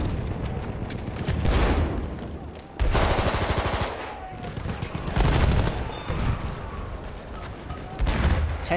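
Submachine gun fire in the World War I shooter Battlefield 1 crackles in repeated close bursts, punctuated by heavier booms and impacts, a busy and loud battlefield mix throughout.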